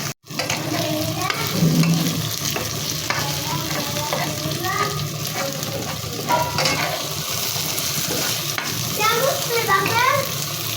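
Chicken pieces frying in a pan at home, a steady sizzle with occasional stirring, with children's voices and talk nearby over the cooking.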